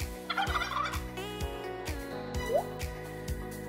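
A turkey gobbling in a short rattling burst, fairly faint, over a soft background melody with gentle repeated tones.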